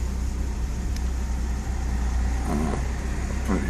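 A 1987 Toyota 4Runner engine idles at about 700 RPM at a traffic signal, giving a steady low rumble heard close from inside the vehicle, with no speech.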